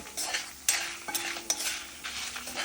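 Spices with cumin fry in a pan for a bitter gourd masala roast, while a spoon scrapes and stirs in several distinct strokes over a soft, continuous sizzle, close and fairly quiet.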